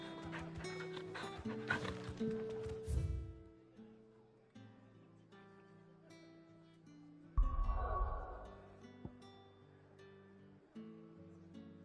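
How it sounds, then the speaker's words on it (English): In Final Fantasy XVI, a dog barks a few times amid busy game music and effects, with a couple of louder bursts standing out above the layered score. "I heard Otto barking"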